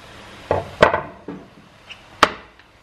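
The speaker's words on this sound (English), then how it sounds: "into the pan the onions go" Chopped onions drop into a hot pan with a few scattered thuds and knocks, the strongest impact late on, close up and without any talking.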